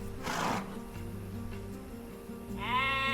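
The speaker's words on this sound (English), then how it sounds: "You have just discovered some sheep at the location of the minimap ping." Sheep bleating in the video game Age of Empires II: one wavering bleat near the start and a second rising, quavering bleat at the end over a steady game background drone.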